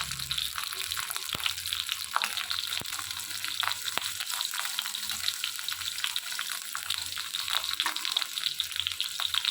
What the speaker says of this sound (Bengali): এবারে এগুলো একটু হালকা করে ভেজে নিই